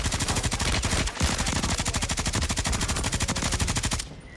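Sustained automatic gunfire in a shooting video game featuring a BP 50 conversion kit, a loud, rapid, evenly spaced burst of shots lasting about four seconds before abruptly stopping.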